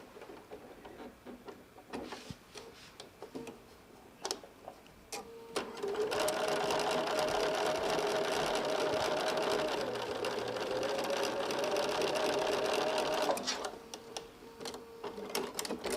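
A sewing machine stitches across a fabric corner along a drawn line while piecing a quilt block, its steady motor whir running loud and continuous for several seconds after softer handling noises.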